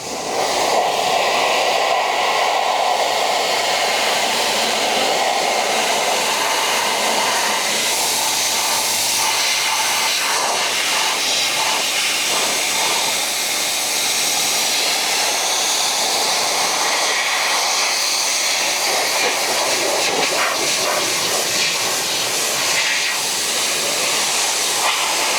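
A pressure washer with an orange 15-degree nozzle sprays steadily at close range, making a loud, continuous hissing roar that holds unbroken for the whole stretch.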